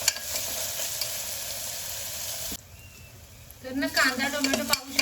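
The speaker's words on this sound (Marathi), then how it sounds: "छान टोमॅटो मऊ झाला पाहिजे असा कांदा असा गुलाबी तर झाला पाहिजे छान मस्त मी परतून घेणार आहे" Onion and tomato sautéing in a pan, a steady sizzle with stirring scrapes that briefly drops quieter midway, then returns with clattering stirs and a voice speaking over it.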